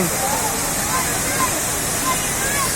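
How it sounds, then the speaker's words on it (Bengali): Jaflong waterfall pours heavily after a night of rain, a dense, continuous roar of rushing water that fills the scene at close range. "রাত্রে প্রচুর পরিমাণ বৃষ্টি হচ্ছে যার কারণে ঝর্ণা দিয়ে প্রচুর পরিমাণে পানি আসছে"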